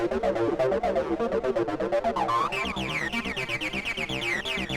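Roland 303-style acid synth line processed by a Boss BE-5 multi-effect unit: a fast, continuous run of squelchy notes whose resonant filter sweeps upward and stays bright, loud and alone.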